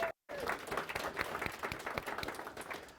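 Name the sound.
round of applause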